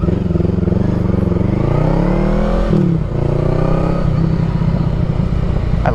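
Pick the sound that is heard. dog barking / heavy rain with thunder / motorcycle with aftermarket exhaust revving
motorcycle with aftermarket exhaust revving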